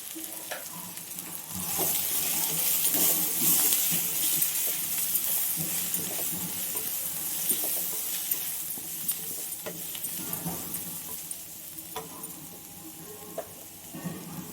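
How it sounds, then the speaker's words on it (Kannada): Water is poured into a hot pan of spices frying with sambar powder, and a close, steady crackling sizzle swells, then continues with light clinks of stirring, no voices. "ಒಂಚೂರು ಫ್ರೈ ಆಗಿ ಸ್ವಲ್ಪ ನೀರು ಹಾಕ್ಕೊಳ್ಳಿ."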